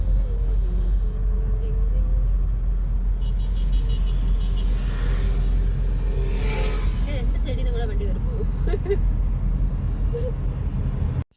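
A tractor's engine rumbles steadily and close by as it drives past, a deep continuous drone that holds for the whole stretch while people talk over it.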